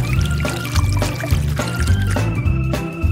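Melted chocolate poured for coating a ribbon, a continuous loud, close pouring and gurgling with bubbly liquid texture throughout, no talking.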